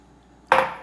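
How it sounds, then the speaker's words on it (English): Eggs and vanilla are tipped into cookie batter in a bowl, a sudden clatter-and-splat landing after a quiet start, close and fairly loud, then fading into a short rattling tail. "So now I'm going to add the eggs and the vanilla to the rest of the batter."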